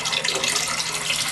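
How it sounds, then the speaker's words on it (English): Clorox bleach poured into a toilet, a steady, hissing liquid stream splashing continuously into the bowl, close and fairly loud with no talk. "so I'm just going to pour some in here."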